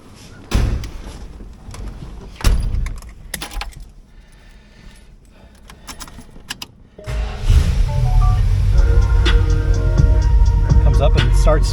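A 1970 Dodge Coronet 440 has two sharp door slams a couple of seconds apart, a quieter pause with small rustles, then the engine cranks and catches into a loud, steady idle rumble.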